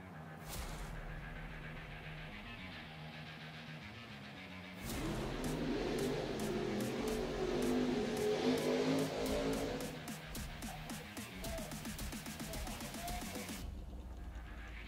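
Drag racing cars line up for a bracket race, first idling low, then a loud engine roar rises and fades. A rapid series of staccato revving pulses follows before the sound cuts off.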